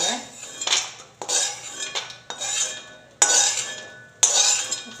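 A metal spoon scrapes and clinks against a kadhai as roasted walnuts are scooped out, five sharp scraping bursts in a steady rhythm, close and clear with no talking.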